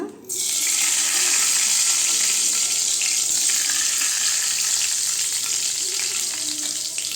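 Fenugreek seeds dropped into hot oil, an abrupt loud burst of sizzling that settles into a steady, close crackling fry and continues throughout.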